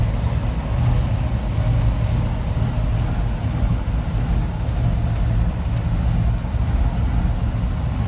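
A 1962 Chevrolet Impala SS with its 283 V8 engine running steadily, a loud, constant low rumble with no changes in revs and no talking.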